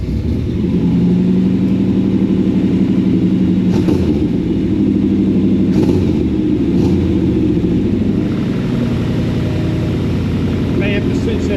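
An engine on a driveline project, newly supplied with fuel, fires and then runs steadily, its loud, close, uneven mechanical rumble holding throughout while someone talks over it.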